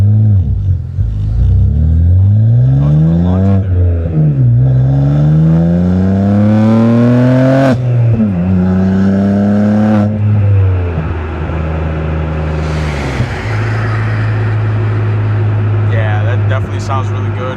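A BMW G80 M3 with an aftermarket exhaust accelerates hard through several gears, its loud engine note rising in repeated sweeps with sharp shift breaks, then settling to a steady drone.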